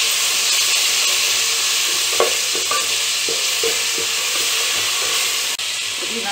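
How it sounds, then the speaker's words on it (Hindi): Ginger and garlic fry in hot oil with onions in a pan, a steady close sizzle and hiss punctuated by a few stirring scrapes, with no voices over it. "अदरक लहसुन तले जाना है"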